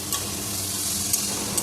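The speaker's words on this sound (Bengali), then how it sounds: "মশলাগুলোকে মিশিয়ে ভালো করে ভেজে নেব" Vegetables and spices frying in a pan for a vegetarian sabzi, a continuous close sizzle with occasional stirring scrapes.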